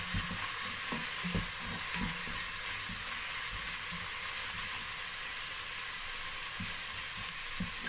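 Turkey stock hits a pan of vegetable rice and sizzles in a steady, close hiss, with faint low knocks and stirring sounds scattered through.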